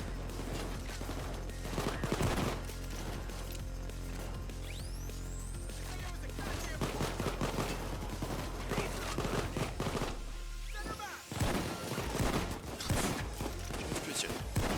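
Heavy PAYDAY 2 gunfire, dense overlapping shots and crashes in a continuous loud firefight, with players talking over it.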